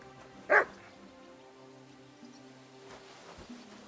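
A single short dog bark in Kingdom Come: Deliverance II, heard once near the start over a quiet ambient background with faint rustling.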